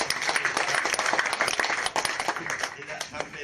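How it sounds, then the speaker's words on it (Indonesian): A debate audience for the Papua provincial KNPI chair candidates claps together in dense, steady applause that thins slightly toward the end, with a voice speaking over it. "Oke, tepuk tangan."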